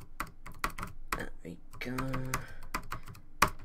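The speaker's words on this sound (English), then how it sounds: "let me just do some typing on here" Clicky computer keys are struck in an uneven run of sharp taps, close and distinct, while someone speaks briefly partway through.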